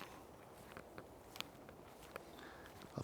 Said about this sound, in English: I can hear footsteps to my side